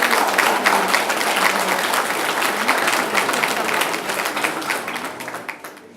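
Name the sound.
applause for a golden wedding couple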